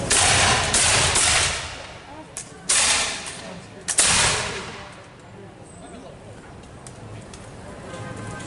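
Musket volleys crack out at a Revolutionary War reenactment in Peekskill, NY, two sharp outdoor bursts a second apart followed by fading rumble and crowd murmur.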